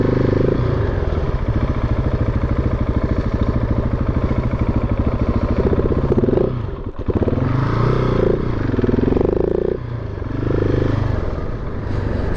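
A supermoto motorcycle runs loud and close with a steady dense engine buzz, dipping briefly near the middle as it passes, then continuing with uneven throttle surges.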